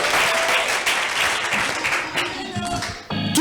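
A church congregation applauds during a Sunday prophetic service, with dense, sustained clapping filling the room and a voice briefly heard near the end.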